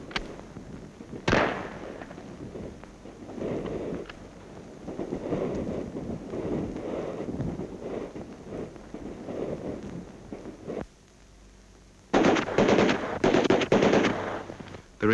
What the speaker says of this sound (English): The recruits get quite a kick out of firing the Sten submachine gun